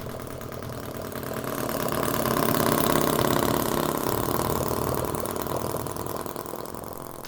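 A tiny 1/5 scale Harley Davidson V-twin model engine runs on petrol at a steady idle, a continuous, fairly loud buzzing putter that swells slightly mid-way with no voices.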